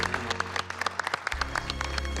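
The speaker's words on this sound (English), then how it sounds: "Please give a big round of applause to our very special guest," A studio audience at a cooking competition show claps for guest Colonel Hadfield, quick bright claps with a low hum running underneath, brief and fairly close.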